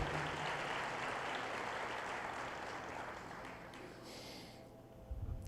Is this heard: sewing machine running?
no